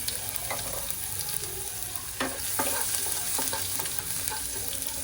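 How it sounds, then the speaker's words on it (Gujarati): Cumin seeds, asafoetida and garlic paste hit hot oil for a Gujarati garlic fenugreek sabji, crackling in a steady close sizzle with intermittent spatula scrapes and pops. "તેલ ગરમ થઈ ગયું છે. હવે આપણે એમાં જીરું એડ કરવાનું છે. ત્યારબાદ આપણે થોડી એવી હિંગ એડ કરવાની છે અને લસણની પેસ્ટ ખાલી લસણની હતી એ એડ કરી દેવાની છે."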